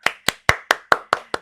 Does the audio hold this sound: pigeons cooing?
no